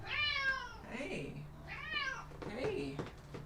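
A cat meows close by, several drawn-out, rising and falling cries spread over a few seconds, with a person's voice talking softly in between.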